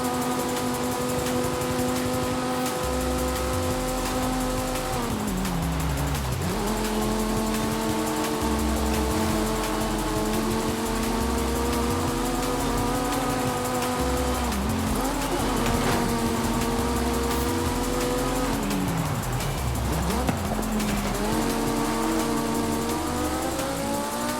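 Race car engine in Forza Horizon 5 droning loudly for the whole stretch, rising through gears with repeated pitch climbs and brief dips at shifts, a sustained close roar.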